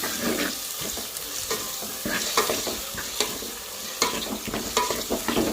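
Mutton sizzles in a hot pan of tempering while a spoon scrapes and stirs repeatedly, producing irregular clinks and scrapes over the steady frying hiss.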